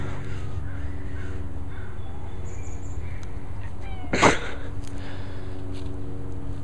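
A single loud, harsh cat yowl rises briefly over a constant low mechanical hum and faint background noise.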